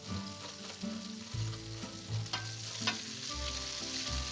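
Onion and cauliflower with salt and peperoncino fry in a pan, sizzling steadily at moderate volume with a few stirring knocks. Background music plays underneath.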